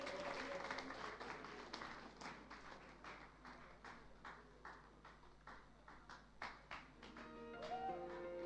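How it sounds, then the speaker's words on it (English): Sparse, scattered clapping from a small conference audience at SwitchCon 2023 for award winners, with distinct separate claps that thin out and soften, and a faint tone near the end. "Please be clapping for them"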